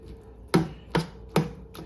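Cornbread dressing ingredients being mixed by hand in a bowl, four evenly spaced soft thuds from the spoon working the mixture, close and fairly quiet with no talking.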